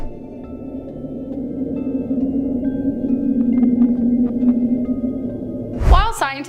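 Julia, an unexplained underwater ocean sound recorded by NOAA in March 1999: a long, low, moaning tonal drone that slowly swells and wavers. It ends with an abrupt louder burst.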